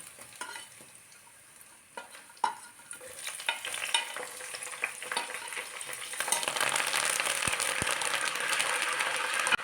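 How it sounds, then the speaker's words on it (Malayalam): Green chilies, crushed garlic and curry leaves drop into hot oil left from frying chicken, crackling sharply at first, then building into a loud, steady sizzle with spoon stirring clicks. "ഇത് നമുക്ക് ചിക്കൻ ഫ്രൈ ചെയ്തെടുത്ത ഓയിലിലേക്ക് ഇട്ട് കൊടുക്കാം"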